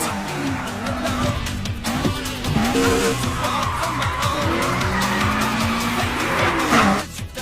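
Tyres screech as a Toyota AE86 and a rival car skid through an anime street race, long wailing squeals layered over engine roar throughout, loud and close.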